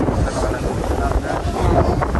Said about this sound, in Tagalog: Sobrang lakas po ng hangin.